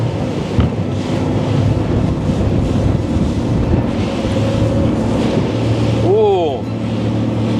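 A Halmarib HR25 RIB boat runs at about 18–20 knots, its loud steady engine drone mixed with rushing water and wind buffeting, while someone talks over it throughout.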